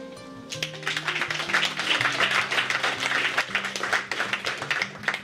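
An audience applauds to welcome author Ayisha Osori at a book presentation and round table, sustained clapping that swells quickly and continues steadily over soft background music.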